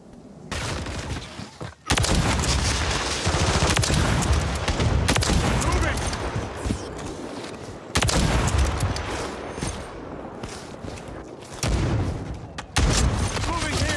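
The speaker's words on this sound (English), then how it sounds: "Why are you shooting at me?" Video game gunfire bursts from a team shooter match, loud and near, in dense volleys with short gaps, while players talk over the shooting.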